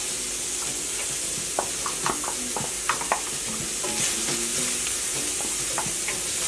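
Chopped onion and garlic sizzle in a hot pan for a steak and two-minute noodle stir-fry, a steady bright frying hiss with scattered pops and spatula scrapes throughout.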